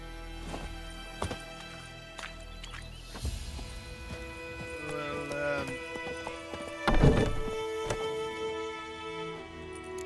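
Hooves of Roach, a horse in The Witcher 3: Wild Hunt, clopping along with a brief whinny and some thuds, set among game music, ambience and a voice talking.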